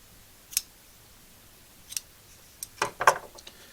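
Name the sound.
cutting rope for a rope grommet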